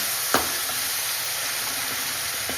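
Spice paste hits a pan of cauliflower sabzi over a slow flame, giving a steady low sizzle with a soft stir scrape near the start and a faint second one later, no talking.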